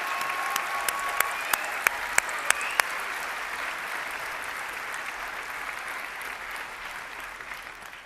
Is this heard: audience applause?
yes